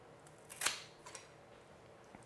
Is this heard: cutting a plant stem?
yes